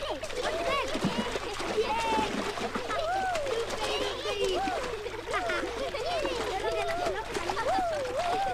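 People splash while bathing in water, with continuous sloshing and spattering through the whole stretch, fairly loud, under busy voices and shouting.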